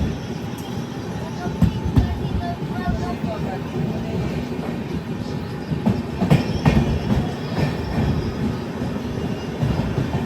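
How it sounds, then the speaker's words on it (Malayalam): The Duranto Express rumbles steadily through Kannur railway station without stopping, with rhythmic clattering wheels and a continuous roar, while voices talk faintly underneath. "ദുരന്തോ എക്സ്പ്രസ് ഇതാ കണ്ണൂർ റെയിൽവേ സ്റ്റേഷനിൽ നിർത്താതെ പോവുകയാണ്"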